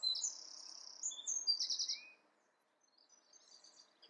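Small birds chirping outdoors on a hot day, high thin tweets and short trills in bursts, fairly faint and distant over a quiet background, with a brief pause before more calls.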